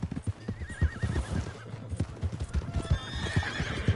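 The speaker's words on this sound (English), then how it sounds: "Hey, that's my horse!" Horse hooves clopping at a gallop with a loud whinny in Red Dead Redemption 2, the hoofbeats steady and close throughout, the neigh rising clearly over them.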